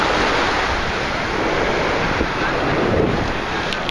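Ocean surf rolls onto a beach under a light southeast breeze, a loud, dense, continuous wash with wind rumbling on the microphone.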